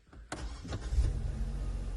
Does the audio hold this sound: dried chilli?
no